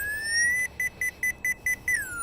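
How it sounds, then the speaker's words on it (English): A pipe locator (Pipehorn) tracing buried parking lot streetlight lines sounds a steady electronic tone, then breaks into a quick series of short, evenly spaced beeps before holding steady again; clear and close, with no talking. "Now if it beeps at me, I turn it down a little bit and keep going."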